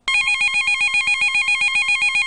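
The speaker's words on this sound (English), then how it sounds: "Then the phone rang." A telephone rings with a loud electronic trill, its two alternating tones pulsing in rapid repeated bursts, close and clear with no voices.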